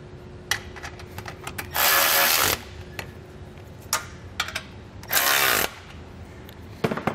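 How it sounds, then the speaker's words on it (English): A 16 mm socket wrench tightens factory bolts on a base plate kit for a 2020 Jeep Wrangler: two longer bursts of metallic ratcheting grind between scattered clinks and taps, near and moderately loud. "tighten the two factory bolts with your 16 millimeter"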